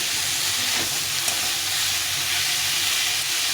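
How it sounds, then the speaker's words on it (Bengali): Cauliflower, peas and paneer sizzle steadily while being sautéed in a pan, a continuous close frying hiss with faint stirring, no talk. "এটাকে ভালো করে একটু কষিয়ে নিতে হবে অনেকক্ষণ ধরে"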